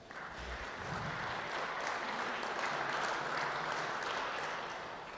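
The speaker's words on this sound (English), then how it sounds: "Give her a round of applause." Audience applause at a nuclear industry event on small modular reactors, a steady, fairly distant wash of clapping that swells slightly in the middle and stays even throughout, with no voices.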